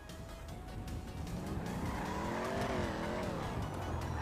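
A video game car screeches into a long tire skid and strikes a character, the squealing whine rising and bending over engine roar, fairly loud and close and heard alone without talk.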